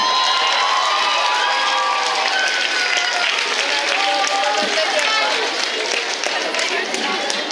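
A crowd at a school marathon event for eighth- and ninth-grade girl runners claps and cheers, dense continuous applause mixed with children's shouts and an amplified voice speaking over it.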